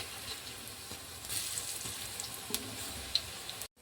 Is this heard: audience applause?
no